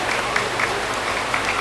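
A seated audience at a Bank Mandiri event in Padang applauds, a thick, even crackle of many hands clapping together throughout.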